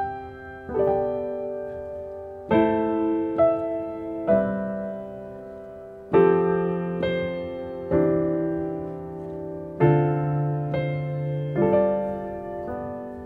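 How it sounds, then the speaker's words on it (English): Piano chords in the love progression ring out alone and up close, each struck firmly about every two seconds and left to sustain and decay before the next. "progression number 6 is what I call the love progression, and it sounds like this"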